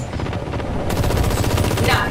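Rapid automatic gunfire in a co-op shooter video game, a dense close burst of cover fire that grows heavier partway through, with a voice faintly under it.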